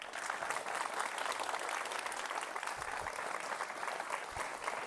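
A studio audience applauds candidates Congressman Mike Coffman and challenger Andrew Romanoff at a televised congressional debate; steady, dense clapping fills the room throughout without talk.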